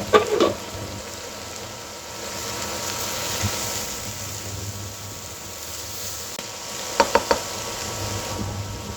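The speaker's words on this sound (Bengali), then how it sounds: "এখন আমি ঢাকনা খুলে একটু নেড়ে চেড়ে দেব" Beans and potatoes being stirred as they fry in a pan: a steady soft sizzle throughout, with a few brief clinks of a utensil against the pan near the start and again near the end.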